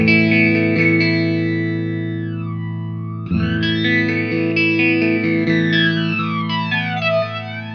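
Sustained electric guitar chords run through an effects pedal with its depth knob turned all the way down, giving a mild, shimmering chorus-like wobble; one chord rings, then a second is struck midway and rings loud and steady.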